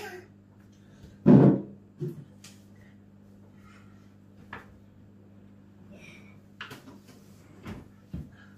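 A few soft clunks and knocks of a drawer or cupboard sliding and shutting, one louder thump followed by quieter bumps, over a steady low hum.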